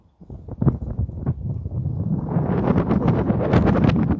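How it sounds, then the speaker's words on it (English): Wind at the Parthenon in Athens buffets the microphone in low, rumbling gusts, starting uneven and building into a loud, steady roar by the end, with no voices heard. "Fresh, windy, and cool air."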